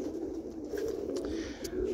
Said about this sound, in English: something scared the birds.